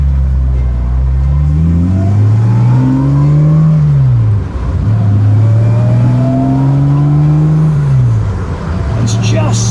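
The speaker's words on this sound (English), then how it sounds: "It's just such a beautiful sound. That is Jaguar, that is E-Type" A 1968 Jaguar E-Type fixed-head coupé's engine revs up and climbs through the gears twice, rising in pitch, dropping at each shift, loud and close.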